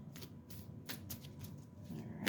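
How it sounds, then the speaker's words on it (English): Soft, close riffling and flicking of playing cards being shuffled, a quiet series of papery ruffles. "I'm just shuffling some cards here."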